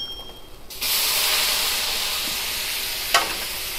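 Coconut powder and spices for a lamb Ceylon curry hit a hot restaurant pan and burst into a loud, steady sizzle that hisses on alone, with one brief sharper spit near the end.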